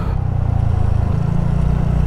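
A Kawasaki motorcycle engine drones steadily and loudly at close range while riding a rough road in Nepal, with no voices.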